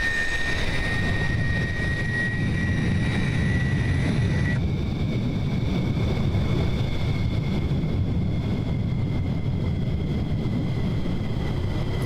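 An F-16 jet engine winds down in a flight simulator game, a steady loud whine and rumble whose high tones drop away partway through, leaving a lower hum with wind-like noise, no talk.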